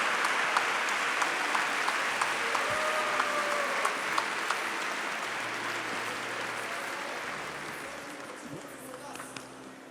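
An audience at the Zlatna Bubamara 2023 music event applauding a trumpeter and his orchestra, with dense sustained clapping from a large crowd that gradually fades, with faint voices underneath.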